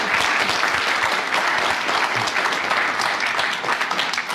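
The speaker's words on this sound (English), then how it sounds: "a round of applause for Derek Nimmo." A studio audience at a 1967/68 radio panel game show applauds in one sustained, dense wave of clapping close up, steady and loud throughout.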